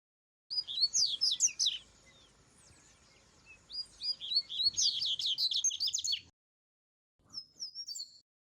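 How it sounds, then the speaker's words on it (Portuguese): A double-collared seedeater sings in a regional dialect, giving two long bursts of rapid, clear whistled phrases separated by a pause, then a short final phrase, close and isolated. "Coleiro."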